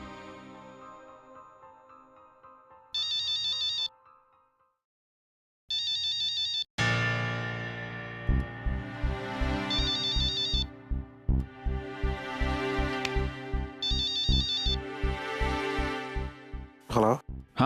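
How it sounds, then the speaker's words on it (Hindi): A phone rings in repeated short bursts with gaps, as in a Hindi TV drama scene, followed by background music and voices talking. "मैं अभी फोन लगाता हूँ उसे।"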